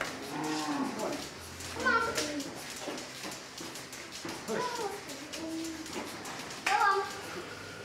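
Cows moo repeatedly on an organic farm that avoids pesticides and artificial fertilisers, several drawn-out calls rising and falling at moderate distance, with faint children's voices and outdoor background noise between them.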